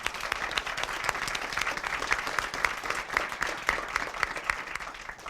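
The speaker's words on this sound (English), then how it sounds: "please give yourselves and them another round of applause." An audience at a school district spelling bee applauds steadily, a dense, sustained mass of clapping from a sizable indoor crowd.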